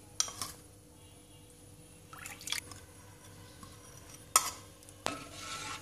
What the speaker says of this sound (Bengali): গুঁড়া দুধ আমি নেড়ে চেড়ে মিশিয়ে নিচ্ছি আর চুলোর জালও আমি বাড়িয়ে দিয়েছি